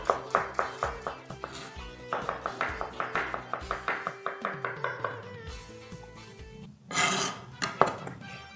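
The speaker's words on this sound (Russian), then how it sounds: "Чеснок нарезаем кружочками." A knife slices garlic into rounds on a board while preserves of dried plums are prepared, giving a quick rhythmic run of close sharp taps that then stops, with a brief clatter near the end.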